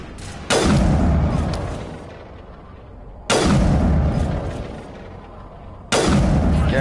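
Three heavy sniper shots in Mass Effect, each a loud, sudden crack followed by a long echoing decay. The shots come about three seconds apart, close and alone with no voices.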